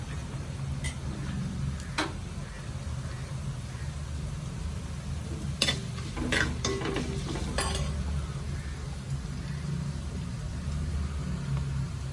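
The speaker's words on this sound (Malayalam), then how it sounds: "ഒരു സ്പൂൺ ഉലുവയും കൂടെ ഇട്ട് പൊട്ടിക്കാം" Fenugreek seeds splutter in hot oil for a Kerala fish curry, a low steady sizzle with sparse sharp pops and ticks that cluster into a quick burst partway through.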